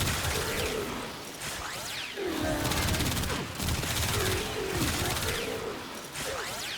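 The Basmu weapon in Warframe fires continuously and is reloaded, a dense, steady energy-weapon barrage with whirring, chirping tones throughout and no talk.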